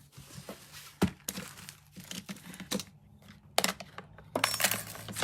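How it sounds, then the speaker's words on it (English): Folding a piece of white cardstock, close crinkles and crisp creasing snaps in irregular bursts, with soft rustling between them. "I've got a piece of white cardstock, and I'm going to fold."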